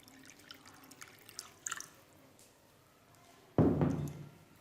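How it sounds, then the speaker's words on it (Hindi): Water poured into thick yogurt to thin it for Punjabi lassi: a short, loud splashing gush near the end, after a few faint drips and taps. "अब हम ज़रूरत के मुताबिक इसमें पानी डालेंगे"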